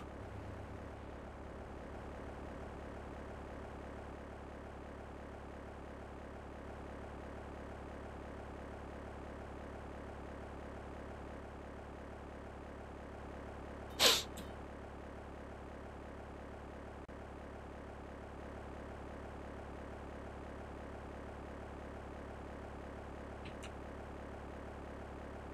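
Propeller airplane in the video game GTA3, a steady, fairly faint engine drone throughout with one brief sharp click near the middle.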